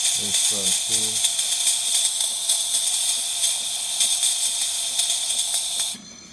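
The steam wand of a freshly serviced DeLonghi Magnifica XS espresso machine gives a strong, continuous, close hiss that holds steady for about six seconds before it stops abruptly, with a voice speaking briefly near the start.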